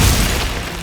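Glacius ice spell cast in the video game Hogwarts Legacy: a short, loud, booming burst of magic that fills the moment and fades slightly toward the end, with no talking.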